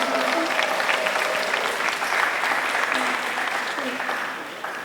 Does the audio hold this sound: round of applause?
yes